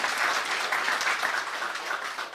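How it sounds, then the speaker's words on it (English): Sustained audience applause at a court and dispute-resolution address, dense steady clapping filling the whole stretch at even loudness with no speech over it. "Please give him another round of applause."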